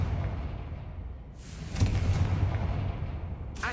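Confringo, the blasting spell in Hogwarts Legacy, goes off with a booming, whooshing explosion near the middle, its rumble lingering, with a second sharp blast at the very end over a low in-game ambience.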